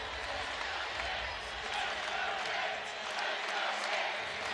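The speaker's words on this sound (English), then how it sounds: "crowd on their feet chanting," An arena crowd stands and chants "Let's go Pitt" at a college volleyball match, a broad sustained roar of many voices rising and falling in waves, distant-sounding and filling the whole space.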